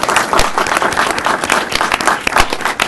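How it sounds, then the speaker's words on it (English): A round-table audience applauds the panelists at the close of a discussion, giving a steady, dense wash of clapping from many hands that fills the room without letting up. "Let's give our panelists a round of applause."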